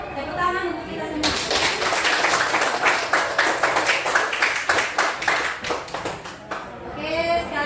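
A classroom of schoolchildren bursts into hand clapping after a short spoken lead-in, sustaining a dense round of applause that breaks into uneven, rhythmic claps before fading back to voices.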